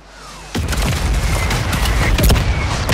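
Mortar rounds exploding in Call of Duty Warzone, a sudden heavy blast followed by a rumbling barrage of further impacts and crackling debris, loud and close, with no talking.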